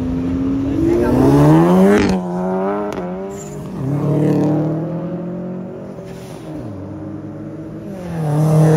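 A Porsche driving slowly past as it leaves a car event in Brazil, engine note rising and falling through gear changes, loud and near, with people talking over it.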